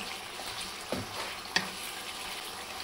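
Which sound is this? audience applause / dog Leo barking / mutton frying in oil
mutton frying in oil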